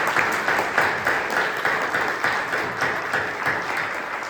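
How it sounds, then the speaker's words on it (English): Applause from attendees of a congressional roundtable on tariffs, greeting panel members as they stand; loud, close clapping with a gently pulsing rhythm that tapers slightly toward the end. "I'd like for us to greet them with applause for their outstanding contribution"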